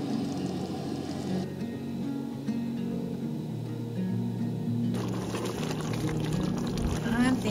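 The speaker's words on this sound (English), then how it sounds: "And now I let it simmer." Chili with kidney beans and corn simmers in a pot during winter truck camping in snow, giving a close, continuous bubbling and hissing with a soft steady roar underneath.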